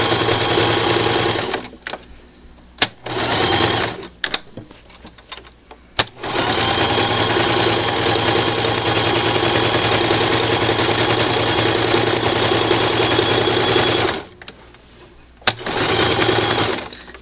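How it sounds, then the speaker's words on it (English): A sewing machine runs a straight stitch around the elastic edge of a reusable fabric sandwich bag, a loud steady mechanical whir in long continuous runs broken by brief pauses and a few sharp clicks. "we're going to go head over to our sewing machine, and we're just going to do a straight stitch"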